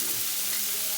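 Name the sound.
steak cooking in a pan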